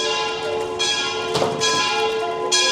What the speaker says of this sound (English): When you hear the church bells like that